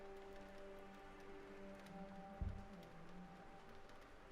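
Soft, steady patter of rain in the video game Sherlock Holmes The Awakened, a faint hissing wash under a low hum of game ambience, with a single muffled thump midway and no talking.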